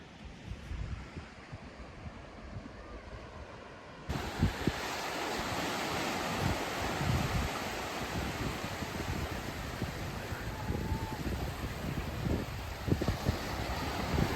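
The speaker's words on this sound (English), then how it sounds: "Well, it is a bit windy" Strong wind buffets the microphone on a beach on Northern Ireland's north coast, a steady broadband roar that grows louder after a few seconds, with surf washing underneath and no speech.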